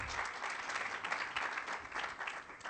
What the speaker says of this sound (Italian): Estendo questo applauso anche a te, a Fara